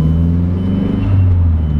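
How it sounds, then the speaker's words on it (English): A modified Mazdaspeed3 car drives along, giving a steady low engine drone and road rumble from inside the cabin, loud and continuous for a short stretch with no talk. "we'll hop in the car, let's go for a drive"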